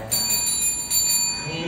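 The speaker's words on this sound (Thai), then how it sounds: "จะกดกระดิ่งต่อไป" A bell pressed during an Instagram live stream rings with two bright, close strikes whose tones linger briefly, with faint voices in the background.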